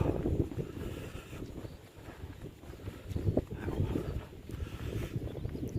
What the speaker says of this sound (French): un vent glacial quand même